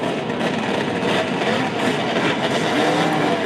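Two-stroke open-class ATV engines roaring at a race, a steady dense wash of engine noise with revving layered throughout, loud and continuous.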